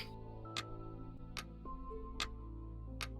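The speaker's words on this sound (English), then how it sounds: "It's a giant fucking clock." A giant clock ticks in four loud, evenly spaced ticks about 0.8 seconds apart over a sustained musical drone.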